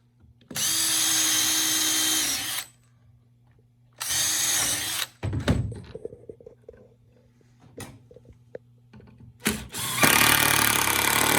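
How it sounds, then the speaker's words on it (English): A power drill bores pre-drill holes through wooden boards while an Adirondack chair is assembled from a kit. Three loud, steady bursts of motor whine, each lasting about two seconds, are separated by quieter handling knocks and clatter. "on these pre-drills, I'm mainly just drilling through the top piece."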